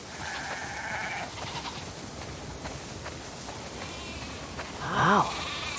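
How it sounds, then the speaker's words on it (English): Sheep bleating in a barn within the farm setting of The Last of Us Part II, a steady background murmur of the flock with one louder, wavering bleat rising near the end, while a voice speaks over it. "Wow, that's a lot of sheep."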